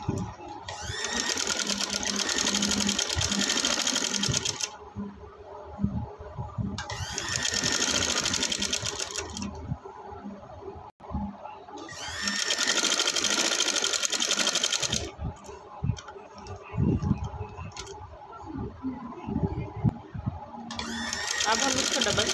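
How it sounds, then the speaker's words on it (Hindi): Sewing machine stitching a sleeve, loud rapid whirring runs of several seconds alternating with pauses, while someone talks throughout. "अब हमने इसको पिन अप कर लिया, अब हम इसको सिलाई लगाएंगे।"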